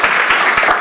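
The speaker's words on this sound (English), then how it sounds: "You could clap your hands for her." A conference audience applauds a newly introduced panelist, steady crowd clapping filling the short moment throughout at close, even loudness.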